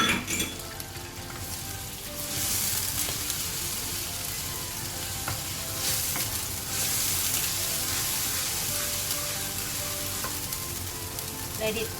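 Ginger garlic paste fries in a pan with a loud, continuous sizzle and crackle, punctuated by bursts of stirring and the scrape of a utensil against the pan, close and without any talk.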